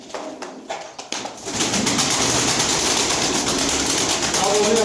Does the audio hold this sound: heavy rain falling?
no